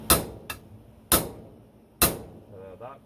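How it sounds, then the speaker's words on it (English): Three sharp hammer blows drive a lower steering stem bearing onto the stem of a 1990 Honda CR125 motorcycle during a rebuild, with a lighter tap between the first two; the impacts are close and distinct with short pauses, and faint rustling follows. "when you're hammering this down, you should have a very deadening sound when it gets to the bottom."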